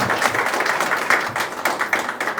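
Applause from an audience welcoming a guest onto the stage at a film launch event: dense, steady clapping throughout, moderately loud with no voices over it.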